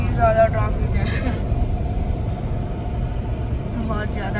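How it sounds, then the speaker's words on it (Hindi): Heavy road traffic rumbles on a flooded, rain-soaked road, with a low continuous engine drone from cars and buses idling and creeping close by while someone talks over it. "कितनी ज़्यादा ट्रैफिक है"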